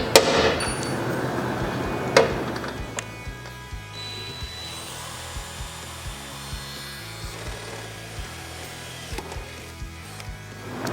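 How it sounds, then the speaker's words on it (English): A hammer strikes a center punch into metal to mark a drilling point while installing LED lights with a relay: two sharp, close metallic taps a couple of seconds apart, followed by quiet handling and scraping sounds. "I'm using a punch because I don't want my drill bit dancing all around. So I'm going to punch that"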